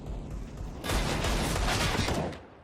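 Gunfire from CS:GO wall bangs at A main during a professional esports match, a sudden dense burst of rapid shots that swells and holds for over a second before fading, loud and unaccompanied by speech.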